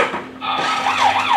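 A toy police car gives off a short wailing siren that rises and falls in pitch, preceded by a brief rubbing, handling noise.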